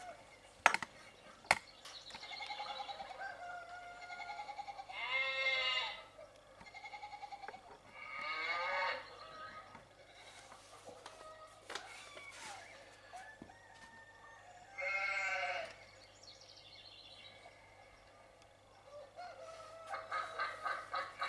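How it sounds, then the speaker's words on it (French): Recorded farm animal calls from a papercraft Christmas nativity village sound effect: moos, clucking hens and other livestock cries played in separate bursts, fairly faint and spaced out with quiet gaps between. "j'ai mis des bruits, des cris d'animaux de la ferme"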